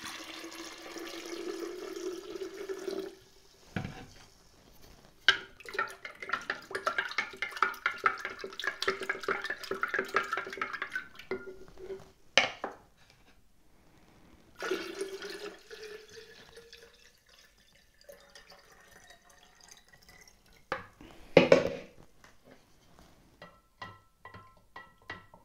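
Sugar is stirred and dissolved little by little into room-temperature water in a glass jar, giving soft liquid swishing and faint clinks, quiet and close, with a few sharper knocks between stretches.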